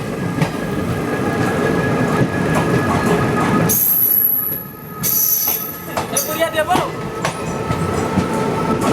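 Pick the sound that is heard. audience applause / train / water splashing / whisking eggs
train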